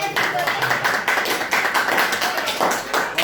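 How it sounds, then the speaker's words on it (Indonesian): A class of schoolchildren applauds together in a classroom, a steady, fairly loud patter of many hands clapping with voices mixed in throughout. "Kita berikan tepuk tangan yang paling meriah."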